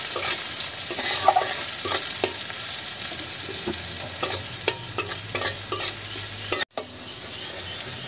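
Mustard paste and spices sautéing with fried onions in hot oil, a steady close sizzle under repeated scraping stirs of a spoon against the pan, with one brief dropout near the end.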